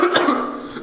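A single short cough from a person in a dorm room, close and fairly loud, a brief rough burst that trails off in under a second.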